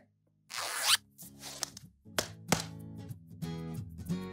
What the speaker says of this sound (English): Let's zip our adventure bags together.